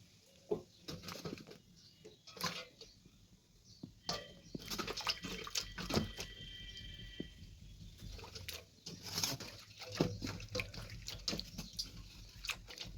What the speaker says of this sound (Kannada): ನೀರೊಳಗಿನ ತರಕಾರಿ ಸ್ವಚ್ಛಂಗೆ ತೊಳಿಬೇಕ್ರಿ.